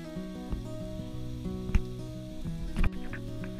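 Onion sautéing with salt and pepper in a hot pan of oil gives a steady soft sizzle beneath sustained tonal background music, with a couple of brief louder clatters.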